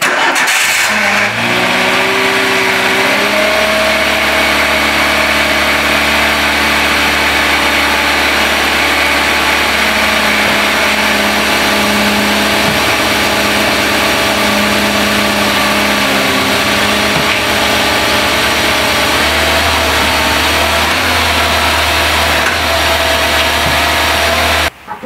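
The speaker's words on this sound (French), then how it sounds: "je vais le faire avancer, je vais mettre la marche arrière et tu vas voir que le moteur il donne des à-coups" A Renault 5 with a moving, faulty engine, which jerks while driving forward and in reverse. It is heard starting, then running at a steady idle with shifting engine tones and small level changes, close and loud, with no speech.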